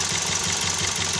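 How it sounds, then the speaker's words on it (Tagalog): A Toyota Vios engine idles roughly with a misfire from a broken injector, a close, loud uneven knocking pulse that stumbles irregularly over a constant mechanical hum. "Kaya pala palyado idol. Sobrang palya."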